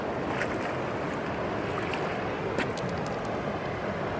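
Water swirling and sloshing steadily in a gold pan after running material through a sluice while crevicing for gold, a continuous close washy rush with faint splashes and no voices.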